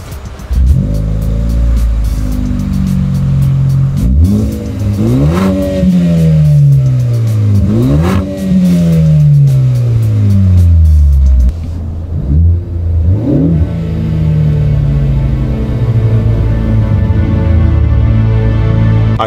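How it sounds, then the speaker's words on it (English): A car engine revs hard several times, each rev climbing in pitch then falling away, close and loud, with a steadier idle rumble between bursts. "he doesn't know how loud my revving can be."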